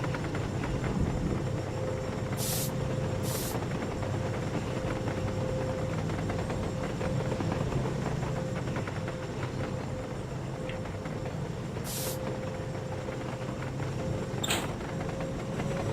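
A train in a railroad video game rumbles along the rails at Sand Patch, a steady low continuous roar with a faint tonal whine and a few brief high clicks, no talk.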